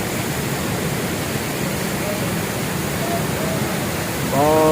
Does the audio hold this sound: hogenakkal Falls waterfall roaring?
yes